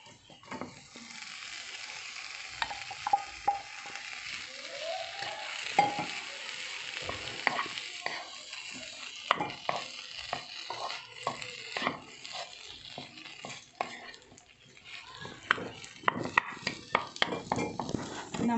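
Cooked cassava stirred and mashed in a frying pan with curry leaves and egg, giving repeated scraping and tapping clacks over a steady low sizzle, near and moderately loud, with no talking.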